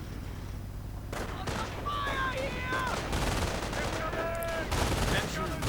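Bursts of MG42 machine-gun fire in a World War II strategy game, crackling under a game commentator's continuous talk amid other battle noise.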